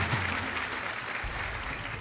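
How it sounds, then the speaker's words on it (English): Audience applause at a junior insurance awareness quiz grand finale, a steady wash of clapping from a large crowd lasting the whole two seconds, fairly even and moderately loud with no voices on top. "Give him a round of applause."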